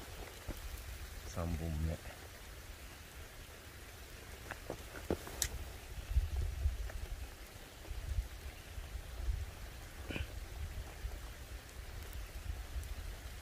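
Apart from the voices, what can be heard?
rain falling outdoors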